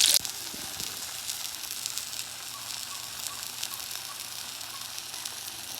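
Roasted gram (putnalu) frying with chilli powder, salt and garlic in a pan, a steady soft sizzle and hiss throughout with a brief louder crackle at the very start, no voices.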